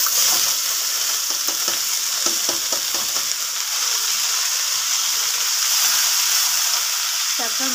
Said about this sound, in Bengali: এবার শাকটা দিয়ে দেবো